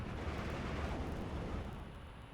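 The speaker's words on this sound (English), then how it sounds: "He's got a lot of artillery out" Artillery fire in a real-time strategy war game: a dense, continuous low rumble of distant bombardment that holds steady and loud, then eases slightly toward the end, with no talk over it.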